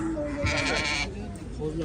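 Sheep bleating at a livestock market in Bishkek, Kyrgyzstan, a short wavering bleat mixed with crowd noise and nearby voices.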